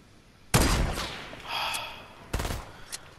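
Gunfire from a burst-fire assault rifle in a video game, two loud bursts about two seconds apart, each a tight cluster of sharp cracks with a short tail, no talk.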